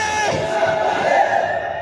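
A large crowd at a religious gathering shouts a slogan together, a loud, dense roar of many voices sustained for a couple of seconds before fading slightly.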